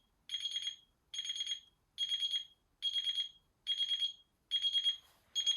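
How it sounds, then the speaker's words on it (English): An Ottlite Wellness Series alarm clock beeping in steady repeated bursts, seven quick pulsing bursts at regular intervals, fairly quiet with silence between each. "So this is the alarm."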